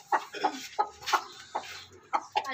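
A broody hen that has been sitting on hatching eggs gives repeated low clucks in an uneven rhythm, close and fairly loud with short pauses between calls.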